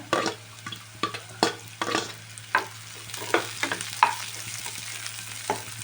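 Vegetables fry in a pan for masala pasta under a constant sizzle, while a utensil scrapes and stirs in irregular, close strokes, with no voices.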